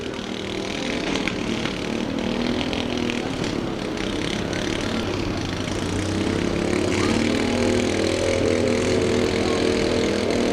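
A strong demolition derby car engine runs steadily and loudly throughout, a rough continuous rumble with a slight rise in pitch partway through.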